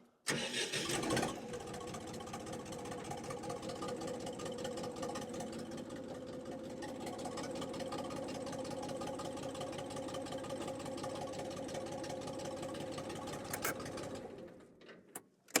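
A Kentavr 244SX mini tractor engine cranks over and catches in the opening second, then settles into a steady, even idle close by. The idle continues alone for about thirteen seconds before it cuts off near the end.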